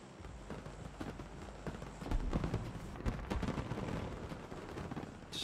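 Fireworks in the video game PUBG: a continuous, dense crackle of bursts and booms rolls on without pause, loud and busy.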